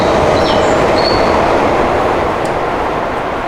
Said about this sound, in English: So we're here in the one of the Tokyo subway stations